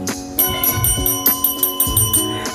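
A notification bell sound effect: a quick series of bright, ringing chimes, about eight crisp strikes in a steady rhythm with long shimmering tones, loud and alone.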